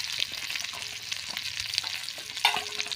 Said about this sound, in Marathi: तेल गरम करून घेतलेलं आहे आता मोहरी टाकून घेऊया थोडीशी हिरवी मिरची